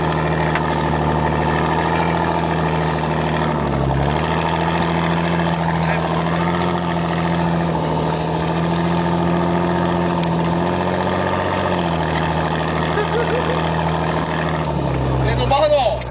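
A vehicle engine drones steadily while driving out to a muddy field, loud and close, with the pitch dipping briefly a few times as the driver shifts or eases off.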